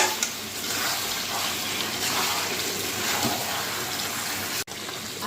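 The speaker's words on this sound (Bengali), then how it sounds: "এর মধ্যে আগে থেকে ভেজে রাখা আলুগুলো দিয়ে দেওয়া হবে, দিয়ে এবার ভালো করে নাড়িয়ে নেওয়া হচ্ছে" Fried potatoes are stirred into a curry in a pan, giving a dense, even wash of sizzling and wet churning that runs steadily, close and without talk, ending with a brief sharp knock.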